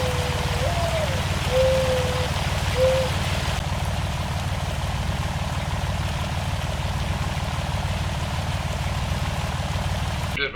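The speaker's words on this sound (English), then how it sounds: "It's pouring. This rain is not easing up anytime soon." Heavy, steady rain pours down on a cold day while a truck towing a gooseneck trailer carries a rare tractor, the broadband hiss continuous over a low engine rumble, with a brief whistle-like tone early on.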